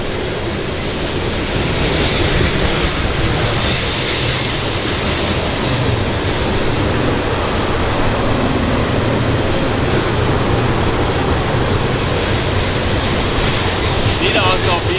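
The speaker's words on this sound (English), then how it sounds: "Y'all like the train that goes by?" A loud, continuous rumble of a train rolling past near a cemetery in West Point, Kentucky, steady roaring noise with faint rhythmic clatter throughout.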